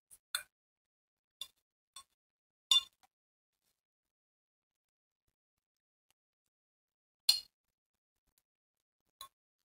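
A spoon mixes safflower leaf bhaji in a quiet kitchen, giving six sparse metallic clinks against the bowl, spread irregularly with silence between.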